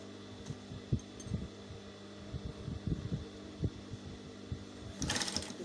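A sewing machine stitches pleats for a patch pocket, with quiet uneven bursts of rapid low thumping stitches over a steady hum, close by, ending in a brief brighter clatter.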